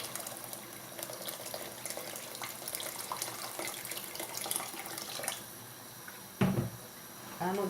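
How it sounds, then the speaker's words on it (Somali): Boiled hot water pours from a pot over basmati rice for Somali bariis, a steady close splashing stream in a kitchen, ending with a brief louder splash and clatter. "waa biyo kullan soo karkariyey"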